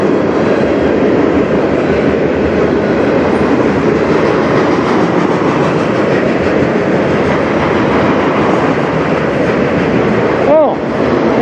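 A CN freight train rolls past on the Strathroy Subdivision, a loud, steady roar of wheels and cars filling the whole stretch, with a brief squeal near the end.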